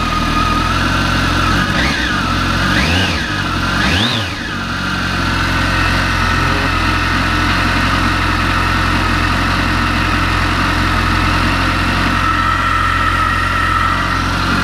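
A Kawasaki ZX14 ZZR1400 motorcycle engine running as it warms up in cold weather, a loud steady idle close by, with three quick throttle blips near the start before it settles back to an even drone.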